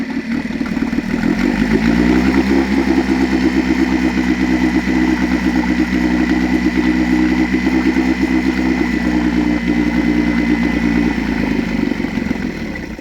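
Mercury 9.9 outboard engine running on its last fuel, a loud close steady chugging idle with mechanical clatter that holds for about ten seconds, then the pitch shifts and the engine sputters and winds down at the end.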